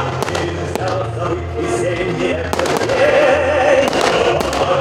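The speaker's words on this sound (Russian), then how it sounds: "И по традиции он завершается грандиозным салютом" Grand Victory Day fireworks salute in Odintsovo, 2016, with repeated loud bursts and crackling over a continuous roar of crowd and ambient noise, the booms spaced irregularly throughout.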